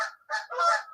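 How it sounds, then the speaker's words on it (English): Mallard ducks call outdoors on a spring day, with three quick nasal honks in a row, fairly close and alone. "Those are actually mallard ducks."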